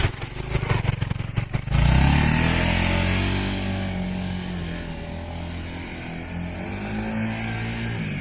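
Motorcycle ridden and leaned into a turn at a Honda safety riding school, opening with rattling engine bursts, then a steady revving drone that rises and falls in pitch as it holds the lean.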